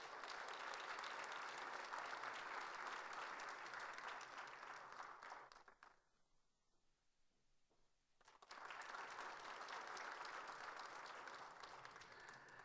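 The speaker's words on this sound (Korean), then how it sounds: "큰 박수로 한번 격려하겠습니다." A church congregation at a Sunday service claps steadily and fairly quietly. The applause drops away for about two seconds in the middle, then swells back up to the same dense level and carries on.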